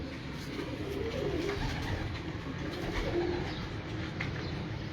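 Pigeons kept by a fancier coo softly in low, repeated murmurs over a steady ambient hum, with faint chirps from other birds mixed in.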